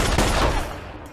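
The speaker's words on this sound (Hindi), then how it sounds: "क्यों गोलियां चला रहे?" A brief burst of rapid gunfire from an action movie scene on an island, loud and close at first, then fading.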